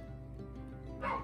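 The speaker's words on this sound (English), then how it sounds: "there goes the dumb dog" A dog gives a short yip-like bark at the end of a quiet indoor moment, a single brief, moderately close call over a low background hum.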